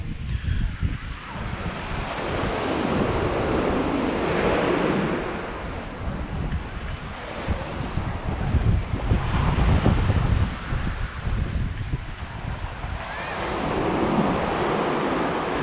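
Sea waves wash steadily onto the beach at Ligaria near Agia Pelagia, Crete, a continuous surf roar that swells and recedes in slow surges, with wind buffeting the microphone throughout and no one speaking.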